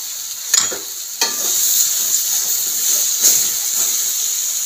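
Sliced tomato added to aubergine frying in a pan, a steady loud close sizzle broken by a few sharp stirring scrapes and clatters, with no one speaking.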